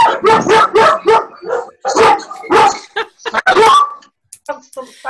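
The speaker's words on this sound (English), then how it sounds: "Tell the dog, Beverly, be quiet if he's trying to get fostered." A dog barks repeatedly in short bursts during a home webinar, loud and close, mixed with and partly overlapping people talking.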